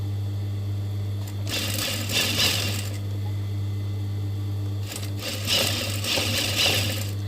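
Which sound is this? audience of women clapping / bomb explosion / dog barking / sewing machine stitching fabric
sewing machine stitching fabric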